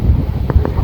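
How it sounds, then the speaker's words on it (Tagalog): Strong storm wind blowing near a playground and an unroofed court, a steady loud roar with gusty buffeting across the whole moment, no talk. "Lakas ng hangin."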